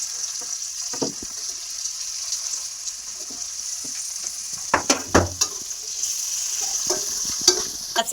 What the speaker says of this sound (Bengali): এবারে আমি ক্যাপসিকামগুলো ভেজে নেব।